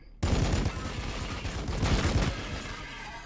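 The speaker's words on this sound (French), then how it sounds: "Au double canon d'assaut, ça me va." A twin assault cannon fires in the video game Warhammer 40k Battlesector, a sudden dense burst of rapid gunfire that sustains for about two seconds before trailing off, loud and close.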